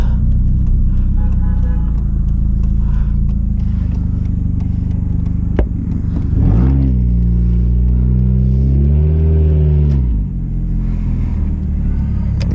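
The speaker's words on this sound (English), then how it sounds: "It's missing the muffler, if you guys want to know what the exhaust noise is." A 2002 Hyundai Elantra running with its muffler missing gives a loud, raw exhaust drone that holds steady, then rises and falls through a couple of rev swells, close and continuous with no talking.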